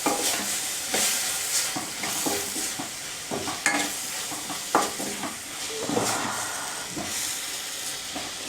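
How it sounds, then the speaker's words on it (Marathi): Dry bombil fish masala with cumin fries in a pan, stirred with repeated scraping strokes over a steady sizzle and steamy hiss, close and without speech. "सगळं आता हे थोडा वेळ 5 मिनटं ह्याला फ्राय करून घेऊया आपण"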